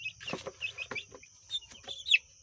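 Black Koyla chickens clucking and calling in a few short, faint, irregular bursts, close by during vaccination.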